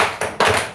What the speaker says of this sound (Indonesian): Diawali dengan tepuk semangat.